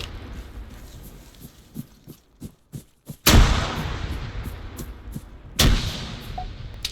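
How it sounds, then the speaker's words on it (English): A grenade goes off in the video game KOTH with a loud, booming blast. A second explosion follows a couple of seconds later, and lighter gunfire pops are heard just before. "A lucky grenade here."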